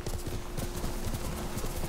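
Horse hooves clip-clop at a steady trotting rhythm in Ghost of Tsushima video game, close and continuous beneath a dense layer of game ambience.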